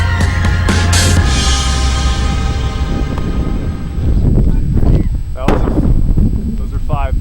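Avalanche-control charges of five pounds each detonate on a snowy mountain, with several loud, sharp booms echoing across the slope amid wind noise and nearby talking.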